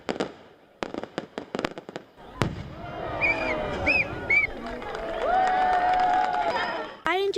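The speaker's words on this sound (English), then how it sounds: "I especially enjoyed seeing the fireworks where they turned into sparkles after" Fireworks display at an outdoor event, opening with a string of sharp near cracks and bangs, then a long stretch of whistling, crackling bursts with a crowd murmuring and cheering underneath, ending on another loud burst.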